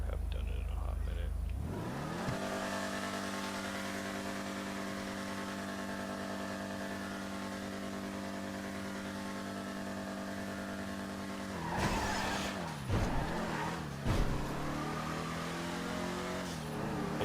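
A drag-raced car with a roll cage in the GTA V video game holds a steady, loud engine drone. It then breaks into a few sharp bursts of revving and tire noise near the end.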